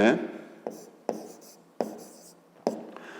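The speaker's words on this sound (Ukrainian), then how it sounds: "Записуємо тоді" Pen strokes while writing out the answer to a grade 5 geometry exercise on a solid's edges: five sharp, scratchy strokes spaced about a second apart, close and alone.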